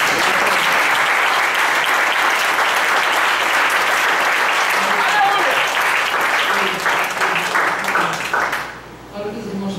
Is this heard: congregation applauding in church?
yes